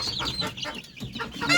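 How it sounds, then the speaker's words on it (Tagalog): Chickens, turkeys and chicks on a rural farm, a nearby flurry of overlapping clucks and squawks, busy and fairly close with no one speaking. "yung mga sisiw at mga pabo at manok"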